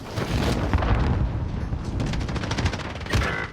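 A loud, dense barrage of automatic gunfire in a first-person shooter game, rapid overlapping bursts and booming reports filling the whole moment, close and continuous.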